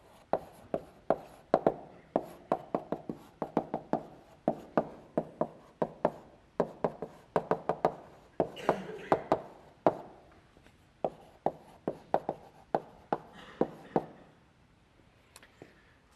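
Chalk writing on a board during a lecture, a quick series of sharp taps and short scratchy strokes in irregular bursts, fairly close, tapering off and thinning out near the end.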